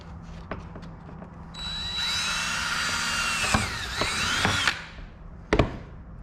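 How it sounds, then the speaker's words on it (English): A power drill with a small bit whirs steadily for a few seconds, drilling rivet holes in a Pontiac 6000 wagon's interior, its pitch wavering as it bites, with clicks and clunks of handling around it. "I think maybe I'll drill a couple little holes, do some rivets"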